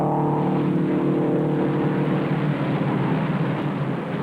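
Race cars on the oval at the 1958 Indianapolis 500 roar past in a steady, loud engine drone with a layered tonal whine, continuous for several seconds with no talking.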